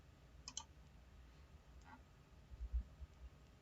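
Two soft, brief computer mouse clicks about a second and a half apart over a faint background hiss, with a low bump of handling noise afterward.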